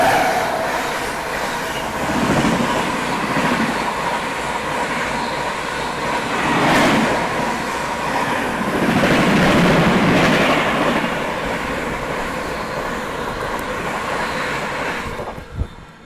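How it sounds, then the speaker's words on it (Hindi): The Suheldev Superfast Express from Ghazipur City to Anand Vihar rumbles past at a station, a loud, continuous roar of wheels and clattering carriages that swells and stays steady before cutting off. "तो ये ट्रेन जो भी ओवरटेक करी गई वो थी 22/433 Ghazipur city Anand Vihar Suhel Dev super fast express"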